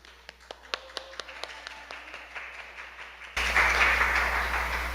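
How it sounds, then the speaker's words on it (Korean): A small group at a church seminar claps in scattered, uneven beats for a few seconds, welcoming a speaker, before a louder burst of noise takes over. "힘차게 우리 강사님 환영의 박수로 맞이할까요?"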